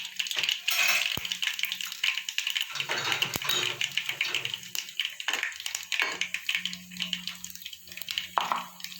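Mustard seeds and dried red chilli splutter in hot oil as a tempering for bitter gourd chorchori, giving irregular sharp pops and crackles over a soft sizzle.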